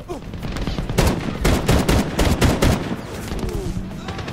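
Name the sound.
machine gun fire in video game Medal of Honor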